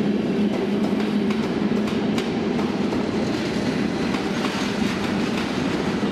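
A passenger train headed by a driving trailer and pushed from the rear by electric locomotive 1737, with a Benelux coach in the consist, rumbles steadily past at close range with continuous loud wheel and rail roar and faint clicks.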